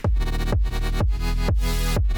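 Sustained synth chords pulse with a deep bass line underneath, each chord hit restarting about every half second in a steady, loud loop.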